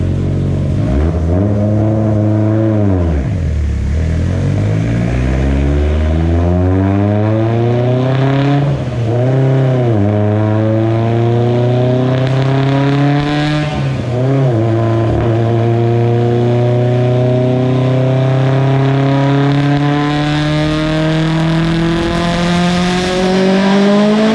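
A Mitsubishi Evo X with an Xona 10569s turbo and a slipping clutch makes a full-throttle run at 40 pounds of boost, its engine revving loudly in repeated rising sweeps, dipping between pulls and climbing steadily to a high, sustained howl.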